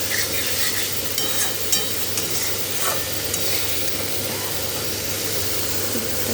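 Masala frying in oil in a pan on a gas stove, a steady loud sizzle and hiss throughout, with faint scrapes of stirring now and then, close up.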